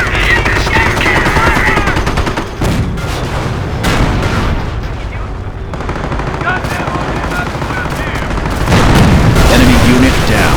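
Dense, loud gunfire from a Company of Heroes battle, with machine-gun bursts and booming shots rattling continuously for about ten seconds and voices mixed into the din.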